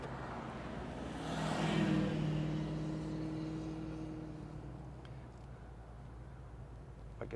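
A 1989 Ford Mustang convertible drives along, its engine rising in a swelling roar as it accelerates, then easing back to a steady, fading hum.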